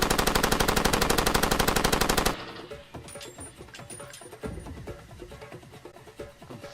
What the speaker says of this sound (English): Firing blindly into bushes now